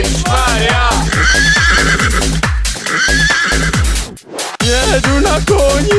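A horse being ridden lets out repeated loud neighs and whinnies, close by and almost continuous, with excited voices shouting over them.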